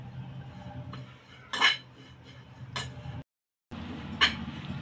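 Finely grated dry coconut being roasted in a pan, heard as a soft continuous rustle with a few sharp metallic clinks of a spoon against the pan and a brief drop to silence.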